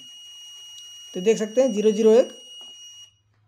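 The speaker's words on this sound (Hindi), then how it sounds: "जब आप इसमें बीप की आवाज़ सुनेंगे" A digital multimeter in continuity mode, used while testing a transistor, gives a thin, steady high-pitched beep that runs for about three seconds and then stops, with someone talking over it.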